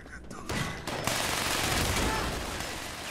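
Gunfire from Fallout 76 bursts out loud and close, a rapid stream of shots after a couple of short initial bangs, continuing densely for a few seconds with a voice heard under it.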